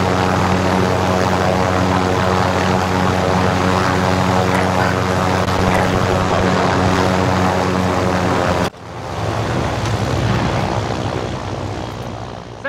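Helicopter in a Modern Warfare video game, a loud, steady rotor and engine drone that cuts abruptly to a rougher, lighter whir, close and continuous.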